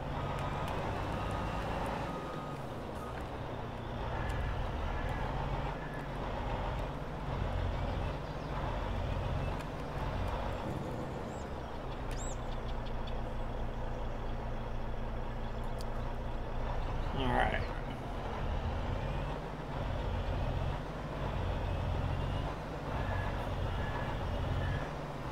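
Grain truck backing up in Farming Simulator 22, a steady low engine rumble with a pulsing drone, heard beneath someone talking.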